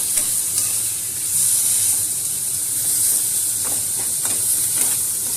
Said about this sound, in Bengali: এবারে এর মধ্যে আমি দেবো ওই টমেটো, কুচানো টমেটোটা দিয়ে দিলাম।